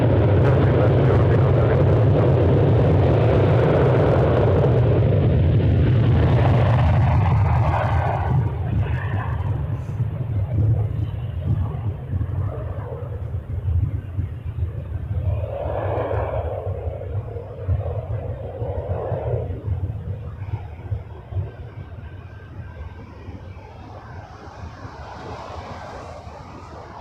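An airliner takes off from runway 06 left at Toronto Pearson with a loud, deep engine roar that slowly fades as it climbs away, and air traffic radio talk runs over it.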